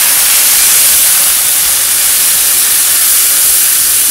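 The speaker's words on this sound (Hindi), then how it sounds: "अब हम इसमें टमाटर डालेंगे।" Tomatoes go into a hot pan of lightly browned vegetables for an achari mixed sabzi, setting off a loud, steady sizzling hiss that runs unbroken for several seconds with no voices.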